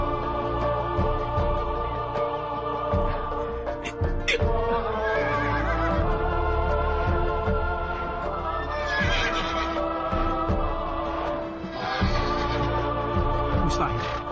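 Wild twin horses neigh and whinny repeatedly over loud dramatic music and other sound effects, with a person talking in places.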